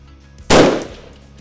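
One sharp, loud sniper rifle shot, fired at a steel target with STS M118 long-range ammunition, cracks out suddenly, then echoes and fades over about a second.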